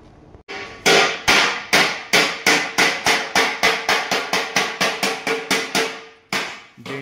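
A hammer pounds a dent out of a scooter's front panel, about twenty sharp, loud metallic blows in a fast, steady rhythm that runs almost without pause, with no talking.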